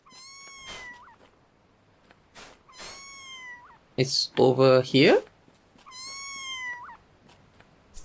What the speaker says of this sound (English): That sounded like a cat.